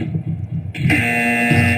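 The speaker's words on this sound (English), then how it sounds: "So we get a buzzer" A loud, sustained electronic buzz kicks in partway through and holds steady to the end, over a lower rhythmic thumping.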